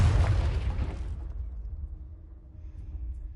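Confringo blasting spell explosion in Hogwarts Legacy, a single loud, deep boom with a crackling burst that decays over about a second into a low rumbling tail.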